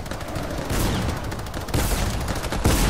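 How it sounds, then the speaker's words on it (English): Rapid SMG fire in a video game, dense bursts of gunshots crackling loudly and close, with a brief pause and then renewed fire near the end. "Get him with the SMG."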